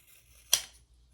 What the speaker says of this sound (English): I'm just going to cut it with my big old scissors here